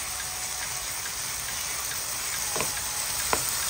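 Mixed vegetables for lumpiang gulay sauté in a hot pan with a loud, continuous close sizzle, broken near the end by a couple of brief utensil knocks.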